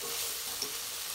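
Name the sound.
stirring Maggi vegetable noodles with masala in a pan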